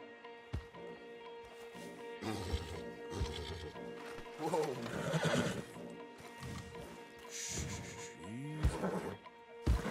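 A horse in Red Dead Redemption 2 gives a loud, close neigh with a wavering whinny, alongside clip-clop hooves and other horses moving, with a voice talking over the scene and a second whinny near the end.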